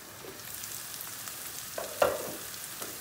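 Eggplants and peppers frying in hot oil in a pan, a steady soft sizzle with a brief louder crackle or stir midway, with no voices.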